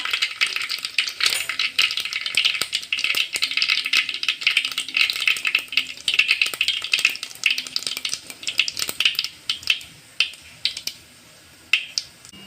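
Mustard seeds and cumin splutter in hot oil in a pan while shingole are being cooked: a dense, steady crackle of tiny pops that thins into sparse, separate pops near the end, with no talking.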